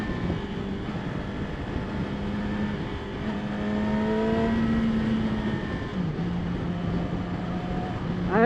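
A 2016 Yamaha R6 motorcycle engine heard from the rider's position, steady buzzing tones under wind roar, rising through gears with brief dips at shifts and a sharp climb at the end.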